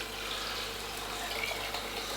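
Cider and water poured into a pan to poach pears, a steady soft splashing stream throughout, fairly faint and close, with no talking.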